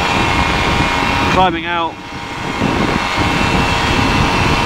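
The engine of a PeaBee flexwing microlight roars steadily at full power during takeoff and climb-out, a loud continuous drone under a brief spoken remark.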